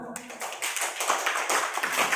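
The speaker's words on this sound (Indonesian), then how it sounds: "Tepuk tangan buat Pak Nano." A small group of teachers claps at a teachers' mentoring session, a brief round of scattered applause at moderate level that follows an initial sharp sound, with murmuring voices underneath.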